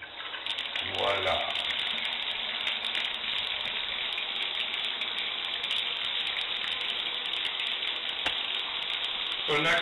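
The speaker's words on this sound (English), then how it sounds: "so let me turn the water back on" Water gushes from a bathtub tap in a steady, loud, hissing rush that runs the whole time, close up, with a brief knock near the start.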